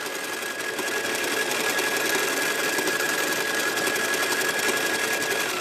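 A sewing machine doing free motion stitching to fill in a circle: a continuous, fast, close whirring hum with a fine rapid pulse, holding a steady speed throughout, with no voices.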